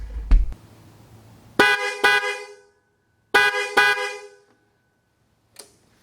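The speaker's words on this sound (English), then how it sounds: "that's a whole lot louder than the little single horn" A loud upgraded motorcycle horn blasts in two double honks, each pair of short toots separated by a pause, after a brief click and rattle at the start.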